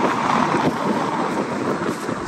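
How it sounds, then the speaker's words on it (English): Strong wind in the French mountains in winter roars steadily against the microphone, a constant loud rush of noise without a break. "It's windy."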